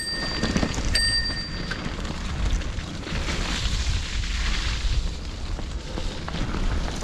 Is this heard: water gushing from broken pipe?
no